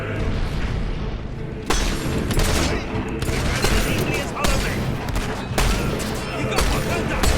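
Gunfire in the video game Fable III, a battle at city gates: repeated loud shots and booming blasts crack through a dense, continuous battle din, with voices mixed into the clamour.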